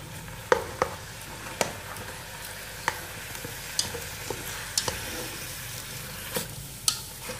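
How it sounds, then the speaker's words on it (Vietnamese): Pickled mustard greens stir-fried in a pan with fish-frying fat, a steady sizzle broken by repeated scraping clicks of the spatula, close and continuous with no talk. "Mình cho vào đây mình xào đi."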